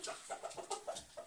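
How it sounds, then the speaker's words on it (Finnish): A single chicken on a small farm with lambs clucks in a quick run of soft, rhythmic notes, heard faintly from a short distance. "siellä on yksi kana"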